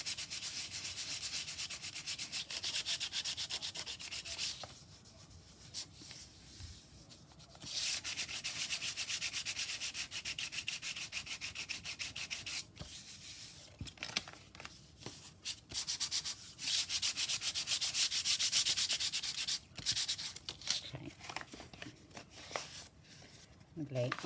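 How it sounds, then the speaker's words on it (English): Sandpaper lightly rubbed over a thick handmade junk journal page, giving a steady close scratchy hiss in long strokes with brief pauses, while someone talks over part of it. "if it's a little bit rough in places, sandpaper out, just sand it lightly."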